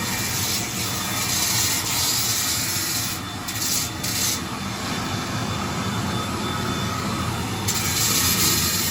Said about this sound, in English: Real good blow torch, just drying everything up, beautiful.